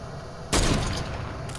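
Fortnite sniper rifle fire in a solo-squad match lands as one loud, sudden blast partway through. Its sharp crack fades into a short echo, and a fainter second report follows near the end.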